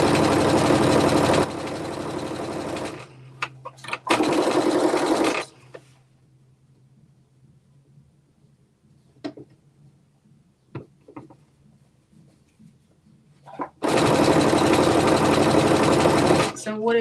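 A sewing machine stitches a pair of shorts in three loud, even runs: one at the start, a short second burst, and a longer final run, with quiet stretches of faint handling noises between them.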